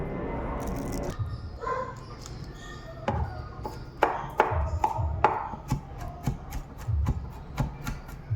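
Garlic is chopped on a cutting board in a home kitchen with a quiet run of sharp knife taps, first loose and then settling into a quicker, uneven rhythm.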